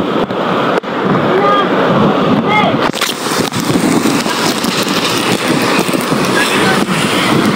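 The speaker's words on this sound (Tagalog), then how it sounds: "Pag umampas yung alon, napakataas po naman talaga." Floodwater waves surge at the Baseco port area, where fresh water and seawater meet. A loud, continuous rushing wash fills the whole stretch, with faint voices briefly audible early on.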